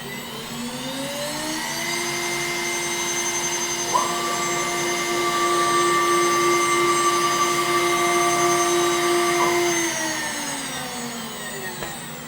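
A CNC router runs a cut while mounting a modification for an RV, a steady loud machine whine with tonal harmonics that ramp up in pitch, hold for several seconds, then fall away near the end.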